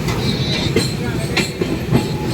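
A moving Sairang Express passenger train rumbles steadily on the rails between Berhampore and New Jalpaiguri, with a continuous low roar and periodic rattling wheel clacks heard from inside the carriage.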